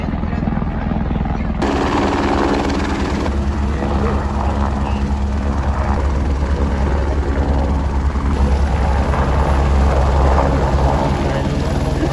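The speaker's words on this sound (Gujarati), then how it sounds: "એક હેલિકોપ્ટર આવે ને તરત જ જતું રહે" A helicopter at the Kedarnath helipad gives a loud, steady rotor-and-engine drone up close, droning on without a break for the whole stretch.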